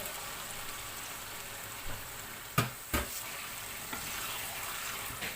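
Chicken pieces frying with onions in a pan, a steady close sizzle punctuated by a few sharp clanks and scrapes of stirring in the middle.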